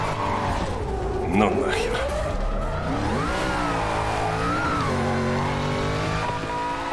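A car skidding on punctured tires in a video game: whining engine revs and drawn-out sliding squeals with wavering pitch, continuous and fairly close, while someone speaks briefly over it.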